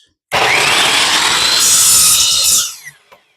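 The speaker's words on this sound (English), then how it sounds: "Line this up with the saw blade." A power saw rips through a wooden furring strip in one continuous, loud cut of about two seconds, the whine tapering off as the blade finishes and spins down, with a couple of faint knocks after.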